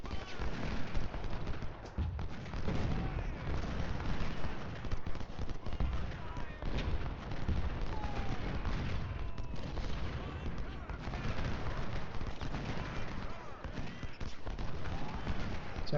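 Massed musket volleys and artillery thunder in Ultimate General: Civil War, a dense, constant roar of crackling rifle fire and deep booms that runs unbroken throughout, with a voice talking faintly beneath.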